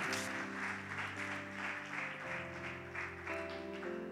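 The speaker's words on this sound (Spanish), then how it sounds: "denle un fuerte aplauso al Señor" A church congregation applauds at low volume, a soft steady wash of clapping with sustained keyboard-like tones underneath and no talking.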